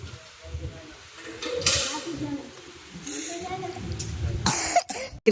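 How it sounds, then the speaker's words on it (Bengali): A few rough coughs break out among stretches of talking, close and fairly loud, with some clicking handling noises near the end. "কাশিটা এখনো কমছে না"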